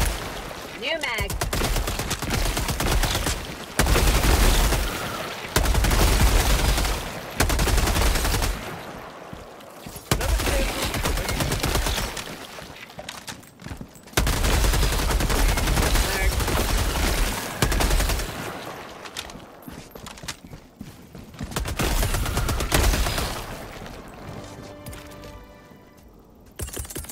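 Rapid gunfire from the Helldivers 2 video game, with loud bursts of automatic fire broken by short pauses and quieter gaps over the whole stretch.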